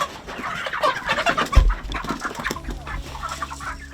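Farmyard chickens in Jamaica cluck in busy, overlapping bursts close by, with a dull thump partway through.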